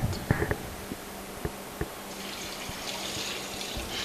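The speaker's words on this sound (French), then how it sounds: "Maintenant, je vais ajouter un peu d'eau dans la marmite." Water poured into a cooking pot of meat and onion, a soft steady stream with a few light clinks at the start, close and moderately quiet, no voices.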